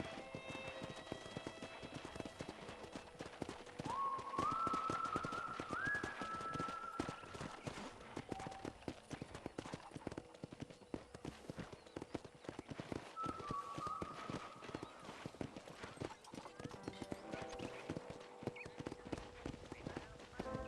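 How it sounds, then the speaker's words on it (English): Steady clip-clop of horse hooves in the video game Red Dead Redemption runs throughout, with a brief whinny and someone talking over the trotting rhythm. "I picked out a fine horse for you. Giddy up!"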